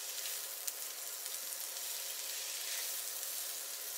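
Onions and bell peppers frying over a high flame, a constant bright sizzle with faint crackles and one small tap, fairly quiet and close, no voices.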